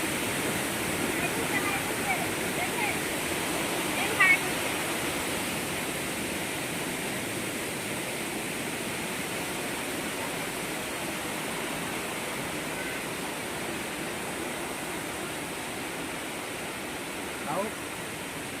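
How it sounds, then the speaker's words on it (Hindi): Sana Ghagara waterfall in Keonjhar sends out a steady, even roar of falling water that runs unbroken for the whole stretch at moderate loudness, with no clear talk over it. "वाटरफॉल देखो"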